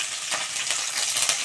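Sliced onions and leaves fry in a little oil in a pan with a soft, steady sizzle and faint crackles and stirring scrapes, fairly quiet and close, with no voices.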